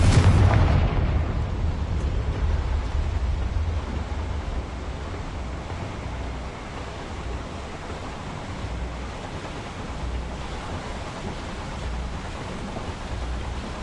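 A fiery Confringo spell blast from the Hogwarts Legacy video game erupts loudly at the start, then trails into a long roaring rumble that slowly fades over about fourteen seconds, with no talking.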